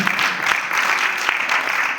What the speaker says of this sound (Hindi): उन सब के लिए भी जोरदार तालियां आपकी तरफ से